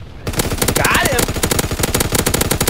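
Rapid automatic gunfire from a Call of Duty WWII match, loud and close, a steady stream of shots running almost the whole time with a brief voice-like sweep partway through.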